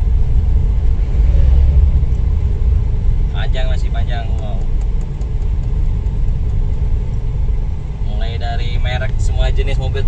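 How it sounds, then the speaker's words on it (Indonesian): Cars and trucks drive along the Muara Tembesi road in Jambi, a loud, continuous low rumble of passing traffic with intermittent higher tonal bursts, and a person speaks briefly over it. "semua jenis mobil truk ada ini."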